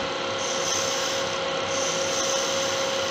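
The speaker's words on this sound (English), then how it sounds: "I'm gonna pull cut with a kind of a scrape just to make that nice and even" A turning tool scrapes antler on a lathe for a slimline click pen, a continuous close rasping hum with the lathe's steady whine underneath, no talking.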